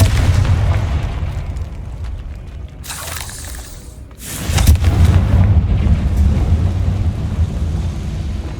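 Confringo fire-blast spell cast in the video game Hogwarts Legacy, a deep rumbling boom that swells around the middle amid steady low game ambience, with a second heavier burst following soon after.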